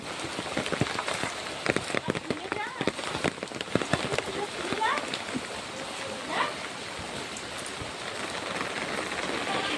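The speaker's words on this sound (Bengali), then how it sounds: "এই কি বৃষ্টি বৃষ্টি। বৃষ্টিতে ভিজতে খুব মজা লাগে।" Heavy rain pours steadily, a dense hiss of drops on surfaces with sharper splatters throughout, loud and continuous with no break.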